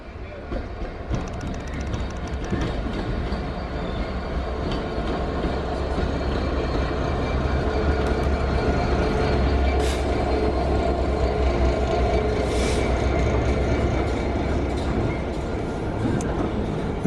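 A three-car train rumbles past nearby near Bletchley for a long stretch, wheels clattering and squealing over the rails in a loud, continuous roar.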